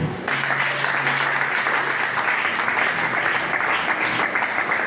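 A congregation at a church service breaks into applause acclaiming the Lord, loud sustained clapping that starts abruptly and holds steady throughout, with a brief low hum at the start.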